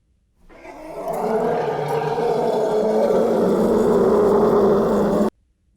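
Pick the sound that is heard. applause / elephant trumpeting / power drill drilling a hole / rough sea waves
elephant trumpeting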